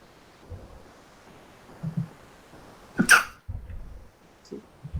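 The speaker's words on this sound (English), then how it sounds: "I was sneezing." A single abrupt sneeze bursts out nearby, loud against a quiet background with soft shuffling and faint murmurs before and after.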